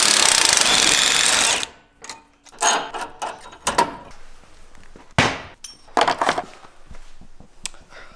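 An impact wrench rattles in one loud sustained burst on the track bar bolt at a Jeep JL Wrangler's front axle, followed by scattered metallic clanks and knocks of tools and parts.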